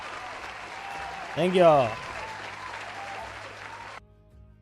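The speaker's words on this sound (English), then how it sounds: "Give them a big round of applause." A canned applause sound effect, triggered from a button during a D&D homebrew call-in show, plays as steady hissing clapping while the host speaks briefly over it, then cuts off abruptly near the end.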